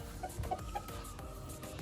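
A rooster at a gamecock farm gives a few faint, quick clucks over steady low background noise, with no voices.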